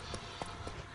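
Horse hooves clip-clop faintly in the Witcher 3 video game, a few soft, evenly spaced hoofbeats over a steady background hiss, with no talk.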